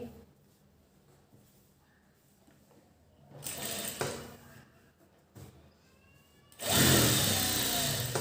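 Household sewing machine stitching a blouse seam, heard in short bursts: a quieter run mid-clip, then a louder, steady close whirring stretch near the end, with faint background noise between.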